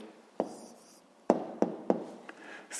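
Handwriting a math answer, with a few close, crisp taps and scratches of a pen on paper in short, separate strokes against a quiet background.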